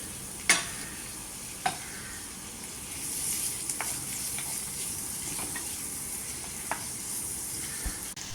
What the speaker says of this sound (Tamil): ஒரு 2 மீடியம் சைஸ் பெரிய வெங்காயம் சின்ன சின்ன பீஸாக கட் பண்ணி போட்டுடலாங்க. அதை கொஞ்சம் போட்டு வதக்கிக்கலாங்க.